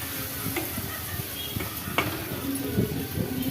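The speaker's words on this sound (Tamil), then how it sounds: "இப்போ நல்லா ஃப்ரை பண்ணிக்கலாம்." Steady sizzling of spices and chopped curry leaves frying in a pan, with a few scraping stirs and light clinks throughout, no voices.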